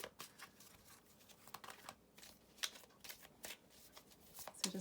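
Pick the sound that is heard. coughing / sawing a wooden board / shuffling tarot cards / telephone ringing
shuffling tarot cards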